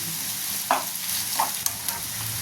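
Ginger garlic paste with onions sautéing in a pan hisses in a steady, close fry, with a few faint scrapes and clinks of a stirring spoon.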